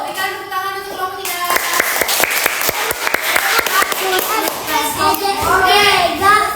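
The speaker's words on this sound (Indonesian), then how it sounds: "Berikan tepuk tangan untuk kelompok" A classroom group applauds after a group presentation in a school lesson, with a burst of rhythmic clapping rising in the middle of the clip and children's voices speaking over and around it.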